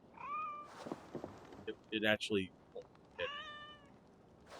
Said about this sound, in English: We got a cat here